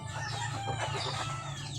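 A chicken being held and massaged gives a quick burst of close, agitated clucks over a faint low hum.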